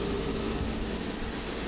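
A Malaysia Airlines airliner's jet engines whine and hum steadily at close range on the apron, a constant high tone over a dense low roar with no talking.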